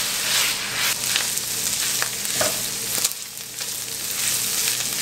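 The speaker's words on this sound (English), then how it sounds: "I am going to just go ahead and finish cooking this ground beef until it's completely cooked through" Ground beef sizzles and fries steadily in a pan, a close, continuous crackle with a few scraping stirs mixed in and no talking.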